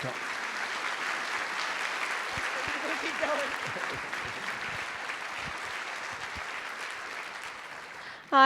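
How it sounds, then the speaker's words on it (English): A concert audience at a high school band concert applauds the seniors, with steady, dense clapping that sustains evenly throughout before a brief louder burst at the very end. "let's give a round of applause to the seniors."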